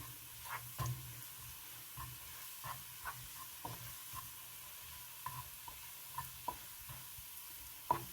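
Onions fry golden in a pan for a Turkish mutton kabab, a faint steady sizzle with soft, irregular spatula taps and scrapes at close range.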